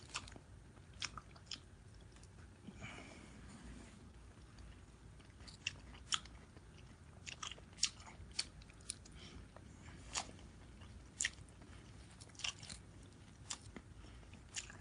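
Someone eating Mexican corn with fish, shrimp and white rice, with quiet, close crunchy bites and chewing clicks at irregular intervals and no voice heard.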